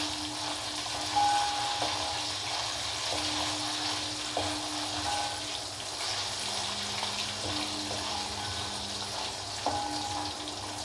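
Banana slices grated directly into hot oil, frying with a steady, broadband sizzle that runs throughout at moderate level, with faint clinks and tonal hums from the kitchen.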